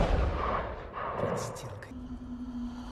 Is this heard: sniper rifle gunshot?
yes